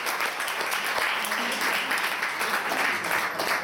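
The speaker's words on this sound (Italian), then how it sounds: "Farei un applauso." Steady audience applause fills a literary talk at the MeMo in Fano, a dense continuous wash of many hands clapping at even loudness throughout.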